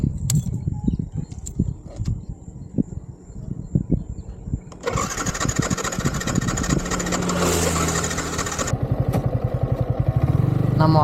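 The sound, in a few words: Yamaha R15 v3 motorcycle engine restarted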